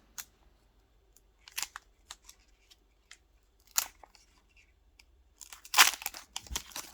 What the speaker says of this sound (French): on va s'ouvrir le dernier booster, même s'il n'y a rien